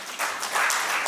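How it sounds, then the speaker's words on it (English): An audience at a stakeholder meeting on sexual harassment applauds in a short, dense wash of clapping lasting about a second. "Please, can we clap for them?"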